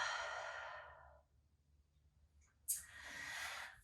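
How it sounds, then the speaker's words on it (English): A long, airy open-mouth exhale during a hot yoga breathing exercise, fading out, followed after a short quiet gap by a sharper onset of another breath, close to the mic with no speech. "And open mouth, exhale."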